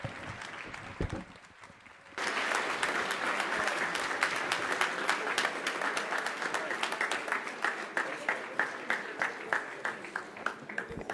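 Audience applause after a keynote talk at an international seminar, starting with a brief quiet gap and then breaking into loud sustained clapping with a few distinct individual claps standing out toward the end.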